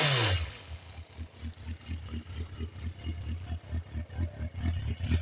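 A Suzuki 400 Bandit motorcycle with a known small fault starts up and settles into a close, rhythmic, slightly uneven idle with a pulsing exhaust throb.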